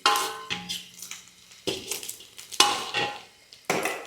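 Goat tripe turning over and frying in oil in a pan, with repeated stirring scrapes and clinks of a utensil against the metal coming in bursts every half second or so, close by and moderately loud.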